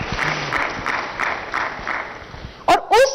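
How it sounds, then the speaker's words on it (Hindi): An audience at Swami Ramdev's education talk claps in a steady, rhythmic unison beat, about three claps a second. A voice speaks briefly at the end. "आप लोग बजा सकते हैं ताली।"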